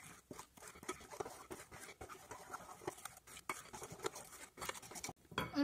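A whisk or spoon stirs financier batter with melted butter in a bowl, making continuous scraping, clinking strokes against the sides at a steady rhythm, close and moderately quiet with no talk.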